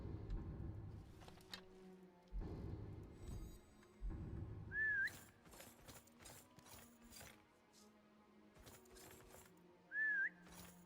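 A short rising-and-falling whistle in Skyrim with the Lorerim mod, heard twice about five seconds apart among clanking, ratcheting mechanical noises and low rumbling game sounds, with no talking.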